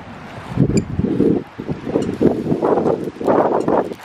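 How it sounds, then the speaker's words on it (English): Gusty wind at Garden of the Gods, Colorado, buffets the microphone in uneven bursts, rumbling loudly and close, with brief lulls between gusts. "It's windy."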